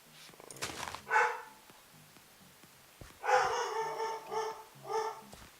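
A dog barking indoors, a few loud barks and yips in short bursts with pauses, over faint background game music.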